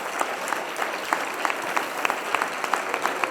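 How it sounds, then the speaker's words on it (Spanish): Strong applause from the audience at a social work event in Aragón, a steady patter of many hands clapping at moderate volume, with no one speaking over it. "Un fuerte aplauso para ellas"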